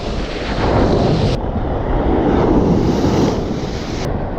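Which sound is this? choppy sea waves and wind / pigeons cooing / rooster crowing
choppy sea waves and wind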